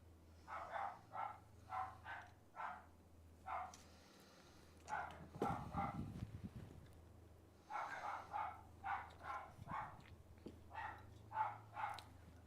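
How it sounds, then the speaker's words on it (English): Dogs bark in the distance during a live tabletop wargame session, sounding as faint, repeated clusters of short yaps over a low steady hum, with brief louder knocks between clusters. "It's amazing you can still actually hear those dogs."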